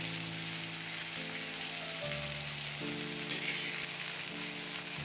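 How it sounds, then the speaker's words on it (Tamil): Onions with curry leaves sauté in hot oil for a samosa filling, producing a dense, even sizzle with a faint stir, while steady tonal music plays underneath. "வெங்காயம் நல்லா வதங்கிட்டுருக்கு"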